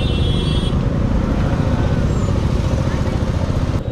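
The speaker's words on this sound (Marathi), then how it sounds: "आता आपण या ट्रॅफिकचं काय करू शकतो सांगा ना" A traffic jam on a packed road in Pune, with a broken-down auto rickshaw stalled in the middle, produces a constant close rumble of idling and crawling engines that fills the whole stretch at steady loudness.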